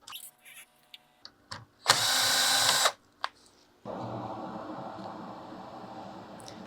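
A power screwdriver whirs to back screws out of transistors on the power supply board of a Sony XR-77A80J TV. It gives one loud, steady burst lasting about a second, then a few clicks, then a long, quieter broadband hum.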